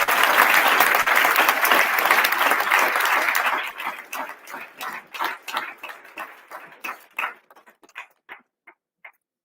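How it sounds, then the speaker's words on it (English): An audience at a formal ceremony applauds to welcome the United States ambassador, loud and dense at first, then breaking into scattered individual claps that taper off over the last few seconds. "Can we give him a round of applause?"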